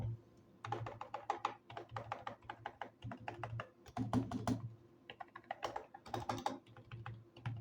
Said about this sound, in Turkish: son bir kez de tuş seslerini sizin için göstereyim